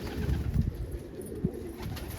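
A pigeon being fed greens coos in low, soft bursts near the start and again briefly later, fairly close against quiet background noise.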